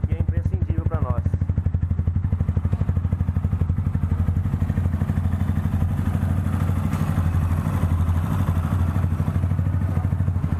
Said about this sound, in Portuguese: Já vou mostrar pra vocês como é que ficou o barulho dessa motoca